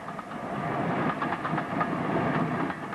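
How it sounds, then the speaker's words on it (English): Steam tank locomotive 4200-280, fresh from overhaul, runs at the foot of Erdington Bank on a heritage railway, giving a steady rumbling roll with faint rhythmic clicking of wheels, moderately loud and without voices. "The 4200-280 tank has just completed its overhaul on the railway and is seen at the foot of Erdington Bank."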